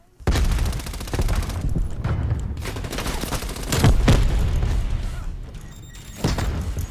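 Grenade explosions and gunfire in Call of Duty: Black Ops Cold War, a loud close barrage of booms and rapid shots that stays dense throughout and swells in the middle.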